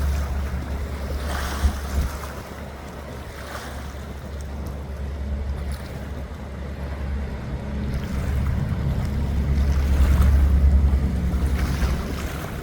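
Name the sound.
paddle boat cruising on the Columbia River, water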